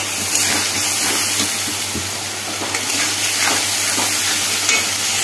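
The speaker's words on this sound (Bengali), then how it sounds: "মশলা সম্পূর্ণ কষে গেছে, আলু আর মশলা।" Potatoes fry with an onion, tomato, ginger and spice paste, a steady close sizzle with scraping stirs and soft crackles, no voices, under a low constant hum.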